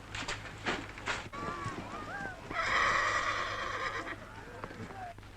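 Horses neighing and hooves clopping, several rising whinnies and a sustained loud neigh in the middle, with hoof clatter and low background hum from an old black-and-white film soundtrack.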